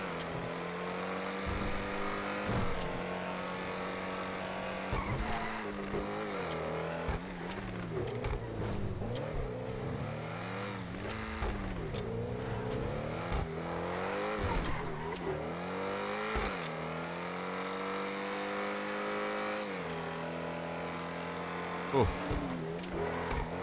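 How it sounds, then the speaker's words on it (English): A car in a racing video game revs hard and its tires skid and squeal, the engine pitch sweeping up and down steadily throughout, with a person talking over it. "Oh, this car sounds so good."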